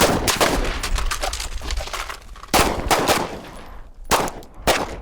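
Rifles firing at an outdoor shooting range, a rapid string of sharp loud shots followed by a few separated cracks, close and unaccompanied by talk.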